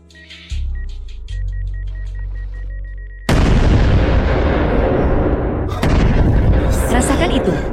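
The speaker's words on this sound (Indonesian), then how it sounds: "Cheng Qian, sepertinya dia telah memasang bom di sini." In a film scene, a bomb explodes with a sudden loud blast midway, followed by a long rumbling decay and then a second burst, after a stretch of low droning tones and beeps.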